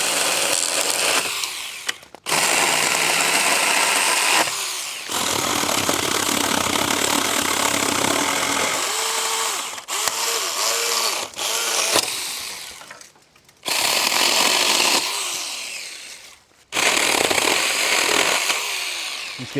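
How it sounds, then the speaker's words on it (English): A cheap $35 mini chainsaw cuts through a downed tree on a woodland trail, its buzzing motor running in long loud bursts separated by brief pauses as the cut progresses, close and sustained. "Let's get this guy cut down right here."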